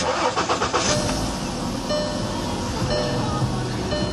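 A car engine cranks and catches, with a quick burst of rhythmic starter chatter giving way to a steady, fairly loud idle rumble close by.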